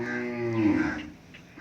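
A Sahiwal Australian cross cow for sale in Pakistan gives a single long, low moo that swells and then trails off, close and fairly loud, with faint farmyard background afterward and no talking.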